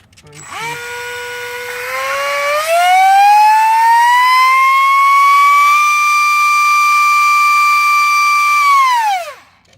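Electric ducted fan of an E-flite Habu S jet spooling up to a loud, steady high-pitched whine, rising in pitch, holding for several seconds, then cutting out abruptly.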